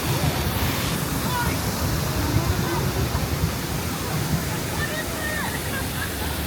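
A geyser on a theme-park raft ride gushes and roars in a loud, continuous rush of churning water, close by and filling the scene.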